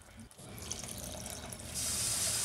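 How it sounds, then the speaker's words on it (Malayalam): Water is poured from a glass into a simmering sardine curry to make gravy, a soft running, splashing pour that swells louder toward the end. "ഇനി ഗ്രേവിക്ക് വേണ്ടിയിട്ട് ഒരു ഗ്ലാസ് വെള്ളം കൂടി ഞാൻ ഇതിനകത്തോട്ട് ഒഴിക്കാൻ പോവാണ്"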